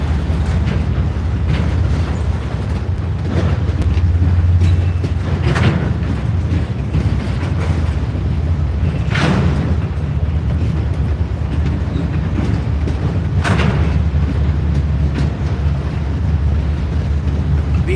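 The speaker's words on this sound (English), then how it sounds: "BNSF going on the other side." BNSF coal train rolling past on a nearby track, a loud continuous low rumble and grinding roar with periodic clanks and bursts of wind buffeting, no speech.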